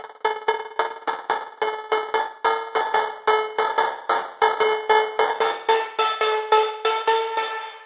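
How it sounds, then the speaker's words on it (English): Percussive techno textures from the Plug Addicted sound pack, a fast run of metallic, cowbell-like tonal hits repeating in a driving pattern that shifts timbre toward the end, close and prominent with no speech. "Plug Addicted is great for some textures on your tracks."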